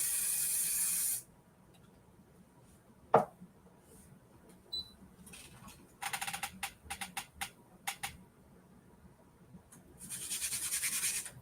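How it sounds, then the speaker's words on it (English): Short hissing bursts of KK2000 temporary spray adhesive, several quick squirts in a row, bracketed by longer steady sprays, with quiet rustling between them. "I've got to spray more KK2000 on my piece"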